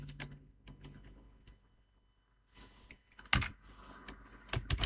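Computer keyboard typing in a few scattered bursts of key clicks, fairly quiet and close, with short pauses between flurries and a louder cluster near the end; no one speaks.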